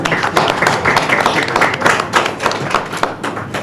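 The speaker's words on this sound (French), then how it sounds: "je vous prie d'applaudir et d'accueillir bien fort Mouska" An audience at a press conference claps steadily, a dense patter of many hands that holds evenly throughout without a break.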